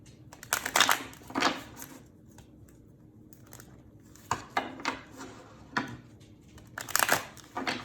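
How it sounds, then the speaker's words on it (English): Tarot cards are shuffled close by in short, papery bursts of riffling and slapping, separated by brief quiet gaps. "Spirit is telling me to shuffle."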